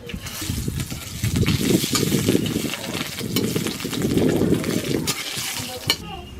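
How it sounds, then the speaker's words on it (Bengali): Hot oil crackles and sizzles steadily as nigella seeds and dried red chillies are added in a wok, a close, continuous frying hiss with a few light clinks of utensils. "কড়াইয়ে আমি কালো জিরে ফোড়ন দিচ্ছি"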